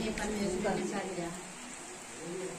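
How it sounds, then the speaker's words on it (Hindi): Heavy rain pours onto a freshly plastered courtyard in a dense, continuous hiss that stays loud throughout, with faint voices mixed in. "बहुत तेज़ बारिश हो रही है"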